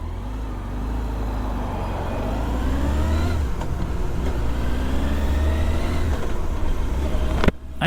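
A Honda CBR900RR motorcycle rides through the centre of Preston, its engine a steady, continuous drone with gentle rises in revs, heavy rumbling wind buffeting throughout and a brief knock near the end.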